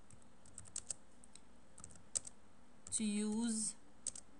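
Typing on a computer keyboard, sparse clicks of individual keys in short bursts, close and quiet, with a brief voice partway through.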